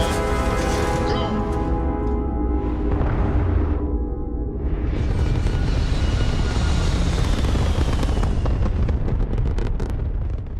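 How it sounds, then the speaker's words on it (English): Starfield spaceship lifting off in a video game: a loud roaring engine surge builds, dips briefly, then swells into a sustained powerful rumble and thrust that fills the whole stretch. "Ready for takeoff in 3, 2,"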